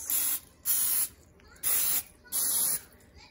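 Four short bursts of Pam cooking oil spray hissing onto the top of a meatloaf, each a sharp near-field spritz of under half a second separated by brief pauses.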